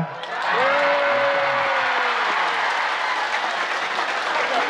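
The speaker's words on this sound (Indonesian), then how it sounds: "Berikan tepuk tangan, boleh." Audience applause at an Islamic religious lecture, a dense sustained wash of clapping filling the hall, with a brief voice sounding near the start.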